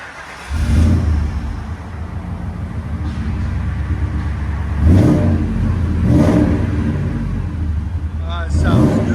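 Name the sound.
Ford Excursion 5.4L V8 revving with Flowmaster exhaust, heard inside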